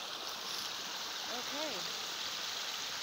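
A creek swollen by the first round of rains flows in a constant, full-bodied rushing hiss, while a voice briefly speaks over it.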